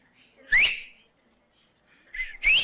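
A person whistling through the lips, two sharp rising whistle bursts separated by a short pause, close and clear against a quiet background.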